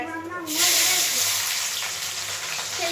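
Fennel, fenugreek and shallots drop into hot oil for a fish curry kulambu, setting off a sudden loud sizzle that stays steady and close, with a voice speaking briefly just before it starts.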